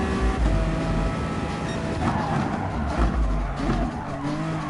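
A race car in GT Sport brakes hard with tires skidding and squealing under a steady engine drone, loud and sustained throughout, with brief engine surges along the way.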